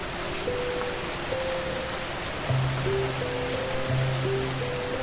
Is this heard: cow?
no